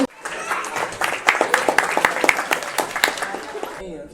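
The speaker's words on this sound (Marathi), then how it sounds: "सगळ्यांनी जोरदार टाळ्या वाजवून" An audience at a community speech and drawing competition claps in a dense burst of applause lasting several seconds, with a voice heard over it.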